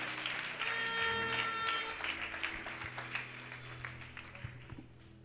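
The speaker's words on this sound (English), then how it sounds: "I thought you would clap up for Jesus." Congregation at a church healing service claps and applauds, a steady wash of hand claps that swells and then thins out into scattered claps.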